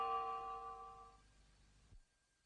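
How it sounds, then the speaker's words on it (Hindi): A single school bell in a Ninja Hattori cartoon rings once and its tone fades away over a couple of seconds before cutting to silence. "घंटी बजनी चाहिए।"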